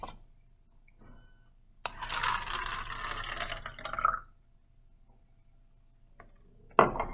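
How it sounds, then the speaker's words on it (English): Roughly 100 milliliters of water pours from lab glassware into a styrofoam cup, a close, bright two-second stream preceded and followed by light clinks of glass. "Now that I have 100 milliliters of water, I'm going to transfer it to a styrofoam cup."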